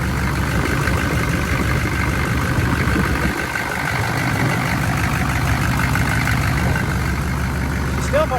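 An old Chevy 6.5 diesel truck idles after five years of sitting, its engine showing slight blow-by, a steady close rumble with an even knocking clatter that dips briefly midway before carrying on.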